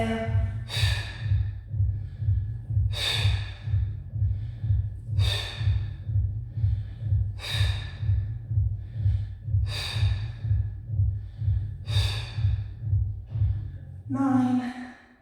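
Repeated deep breaths during a pregnancy exercise class, with about six long, loud, breathy exhales at regular intervals over steady rhythmic background music, and a brief voice at the end.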